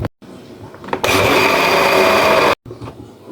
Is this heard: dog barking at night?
no